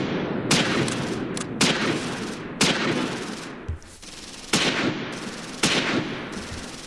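Heavy gunfire booms in a tank video game, with about six loud, evenly spaced cannon blasts, each followed by a sharp decaying crack, set against a constant low rumble of engines.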